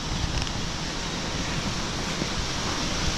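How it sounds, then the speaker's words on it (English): Strong wind blows outdoors during a Pennsylvania archery spot-and-stalk hunt, a steady broadband roar buffeting the microphone continuously throughout, loud and close with no talking. "Super windy."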